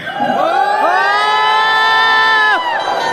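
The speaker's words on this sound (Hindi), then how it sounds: "अब जो लोग हुटिंग में माहिर है वो हुटिंग करके दिखाएं" A large crowd at a gathering lets out loud, drawn-out whooping and hooting, many voices sliding up into one long, sustained cheer that holds for a couple of seconds before breaking off.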